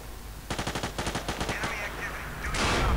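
Enemy gunfire in Battlefield 2 comes as a rapid burst of about ten sharp, evenly spaced automatic shots, close and loud, followed by a rougher burst and a louder blast at the end.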